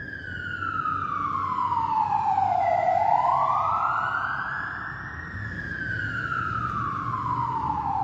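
An emergency vehicle siren passes outside, wailing loudly in long rising and falling sweeps that swell as it nears and then ease slightly as it moves on.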